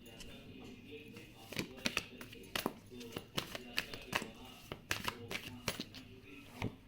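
Tarot cards are shuffled and drawn by hand, a run of quick crisp riffling flicks and taps in irregular bursts, close and fairly quiet, with someone talking between them.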